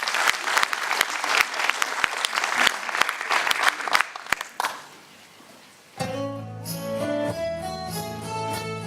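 Audience applause for a performer at a song concert in Le Mans, loud dense clapping with sharp taps for about five seconds, fading out before an instrumental accompaniment begins.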